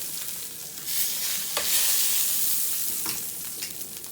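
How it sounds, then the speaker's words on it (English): Pigtails go into a hot pot for a Louisiana-style beans and rice dish, giving a steady close-range sizzle with a few sharper splatters and stirring scrapes, with no one speaking. "we're going to add our pigtails into the pot"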